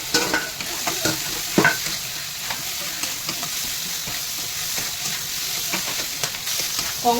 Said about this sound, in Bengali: এই মশলা কষানো তেল বার হয়ে গেছে এবার আমি কাঁকড়া ভাজাগুলো দিয়ে দেবো